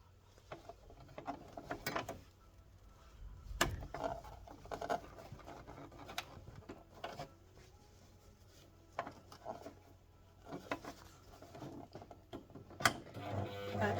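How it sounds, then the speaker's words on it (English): A sewing machine back stitching along the lining of a small cosmetic bag: quiet mechanical clicking and whirring in short bursts with pauses, heard close and alone. "Back stitch and forward and back stitch again."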